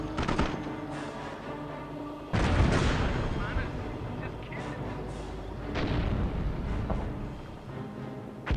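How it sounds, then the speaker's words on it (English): Mortar and artillery fire against tanks in the Company of Heroes mobile strategy game, repeated booming impacts and bursts, one big blast near the start, over game effects with a voice talking. "The mortar squad do the most damage against those tanks."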